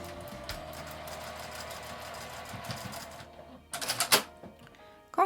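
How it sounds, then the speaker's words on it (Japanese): A sewing machine stitches shut the open edge of a fabric ribbon for a hair tie, a steady close mechanical whir running continuously before stopping, followed by a few brief handling clatters. "この空いた端を縫い閉じておきます。"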